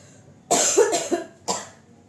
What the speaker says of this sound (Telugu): విపరీతమైన దగ్గండి